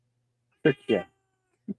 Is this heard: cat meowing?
yes